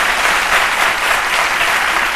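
Studio audience applauding, a dense, loud, continuous wash of clapping hands throughout, steady with no voices standing out.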